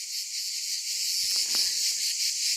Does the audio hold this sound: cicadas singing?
yes